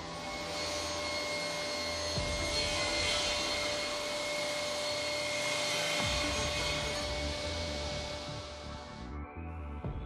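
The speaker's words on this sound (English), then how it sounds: "Now clamp the board under the edging shoe, which ensures that this cut is also performed without a hitch." A Felder C3 31 Hammer combination woodworking machine cuts a board clamped under the edging shoe, a loud steady whining roar with occasional thumps, easing off as the cut finishes near the end.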